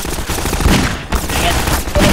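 Gunfire in the video game Half-Life 2, a dense stretch of loud, rapid shots and blasts layered over busy game noise, with a brief dip before the firing resumes.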